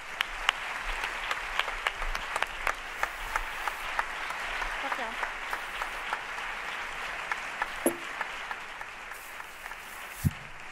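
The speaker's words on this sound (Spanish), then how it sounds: "Un fuerte aplauso para ellos." At a film festival opening gala in Málaga, the audience gives a warm, sustained round of applause for a film's director and cast, steady crowd clapping with a few sharper claps standing out.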